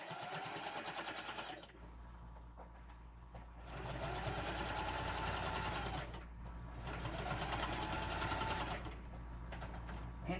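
A sewing machine stitches a puffy Halloween tote bag in long, rapid, whirring bursts. Short quieter gaps between runs suggest pauses at the corners, with no talking over the motor.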